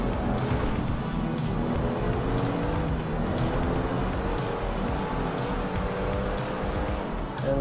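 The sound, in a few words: car driving onto road in video game GTA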